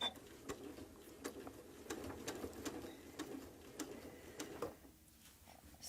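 A sewing machine with a walking foot stitches a quilt, its needle ticking in a steady, fairly quick rhythm at low volume before stopping near the end.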